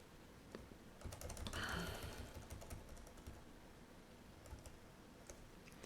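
Keys on a computer keyboard are pressed while HTML code is typed: a quiet, uneven run of close clicks with a quick burst early on and scattered taps after, and no voices.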